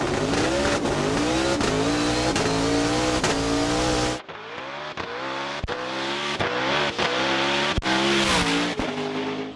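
The Hoonicorn race car's engine screams through high-pitched revs with rapid gear changes and sharp, repeated pops, loud and near, with a sudden drop and recovery midway; no talking over it.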